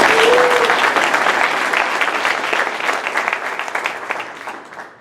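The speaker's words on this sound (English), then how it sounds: "Let's give him a round of applause." Audience at a Rotary club meeting breaks into dense, loud applause that carries on steadily for several seconds before tapering off at the end.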